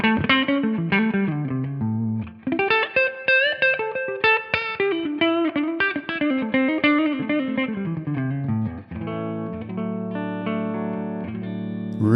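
Electric guitar with a clean tone on the neck pickup, played through a Tonex amp modeler. Chords and single notes ring out and overlap with a sustained, reverberant decay, and a brief pause comes between phrases. No one talks.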